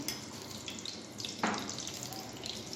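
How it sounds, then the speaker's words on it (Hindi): Edible gum (gond) fries in a couple of spoons of ghee for methi laddu, a steady broadband sizzle with a brief louder crackle burst midway, close and continuous with no voices. "अब हम गोंद को तलेंगे घी में।"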